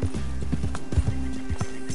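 Horse hooves clip-clop at a steady rhythm in the video game Red Dead Redemption 2, fairly close and loud over a low, sustained tonal backdrop, with no talking.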